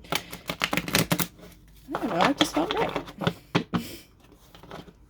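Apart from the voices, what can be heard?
shuffling tarot cards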